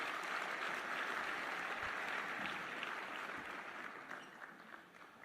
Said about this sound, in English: that's worthy of another round of applause